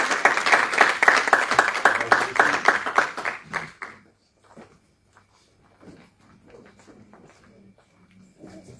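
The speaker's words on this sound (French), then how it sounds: "Un bon applaudissement pour le pasteur Vicky." A church audience claps steadily for several seconds for a pastor, then the applause fades out, leaving faint scattered sounds and quiet murmurs.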